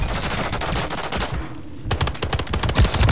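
Rapid automatic gunfire in a Call of Duty match, loud close bursts of shots with a brief lull before more rattling volleys resume.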